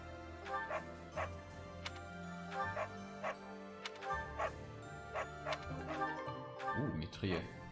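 A dog in Fire Emblem Three Houses gives a series of short, repeated barks and yips at a steady rhythm, moderately close, with a few whimpering sounds near the end.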